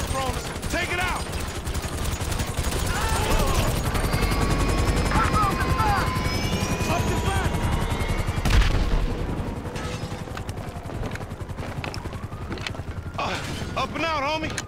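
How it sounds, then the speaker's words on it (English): Helicopter rotor chop and bursts of automatic gunfire in the video game GTA 5, a steady loud whirring beat with rattling shots layered over it, while people talk throughout. "We ain't going nowhere with that chopper on us"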